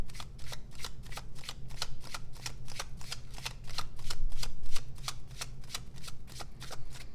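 Tarot cards are shuffled in a steady rapid riffle, crisp repeated flicks at an even rhythm throughout, close and clear with a low background hum.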